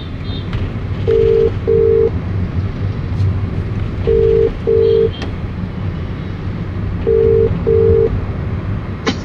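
Phone call tones: three pairs of short, steady electronic beeps repeating at regular intervals over a low background hum, with no talking.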